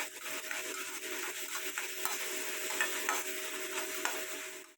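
Steady sizzling of masala spices frying in a pan for tomato rice, with a spoon scraping and stirring through it in short strokes, close and continuous.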